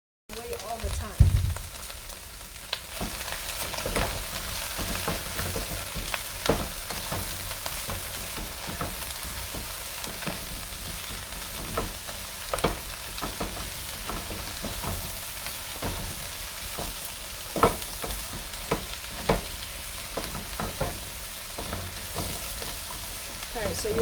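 Chicken and leafy greens sizzle steadily in a hot pan while being stirred, with scattered scraping clicks over a continuous frying hiss and a faint voice at times.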